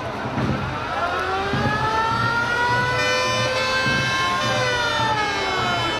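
Fire engine sirens wail continuously at a volunteer fire brigade's centenary parade along a town's main street, several overlapping rising and falling tones sounding loud and close over a low engine rumble, with no voices.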